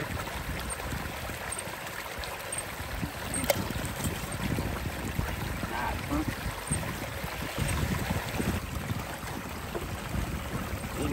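A Gold Fox trommel runs and flushes material through with water, giving a continuous rushing wash and mechanical rumble close by, with a faint high whine on top.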